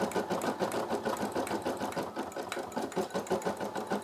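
A Brother SE600 embroidery machine stitches with a rapid, steady mechanical chatter, close and continuous, its needle rhythm running evenly without pauses or voices.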